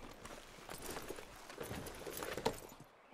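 In the western game Red Dead Redemption 2, a horse walks along with soft, steady hoof clops, quiet and slightly distant, with no one talking.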